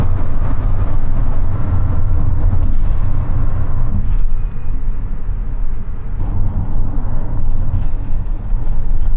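Bus ride heard from inside, with a loud, constant low engine rumble and road noise running throughout, broadband and unbroken with no talk.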